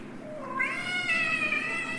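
A person imitates a cat's meow during a student stage play, a single drawn-out rising and falling mew lasting about two seconds, close and clear with no other talk.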